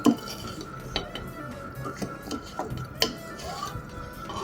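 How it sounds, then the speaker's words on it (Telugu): Pesara avakaya mango pickle being mixed by hand in a container, quiet scraping and clinking of a utensil against the vessel in irregular strokes, close and soft with a few sharper knocks. "ఇది చూడండి పెసరావ కలుపుతున్నాను"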